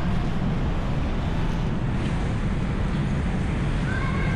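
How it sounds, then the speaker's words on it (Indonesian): Gentle wind blows steadily across the open courtyard of Istiqlal Mosque in Jakarta, a continuous soft rushing hiss without breaks, with faint outdoor background sounds. "Angin berhembus dengan lembut"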